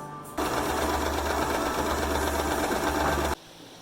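A Singer Simple 3116 sewing machine stitches in one steady, loud mechanical run lasting about three seconds, starting and stopping abruptly, with no talking over it.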